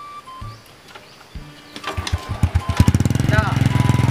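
A motorbike engine starts up and idles, rising from a few sputtering pulses into a rapid, close, loud putter, while voices speak over it near the start.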